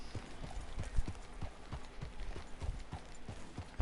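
Horse hooves clip-clop at a steady walking rhythm in Red Dead Redemption 2, with soft repeated thuds fairly close over a quiet ambient background.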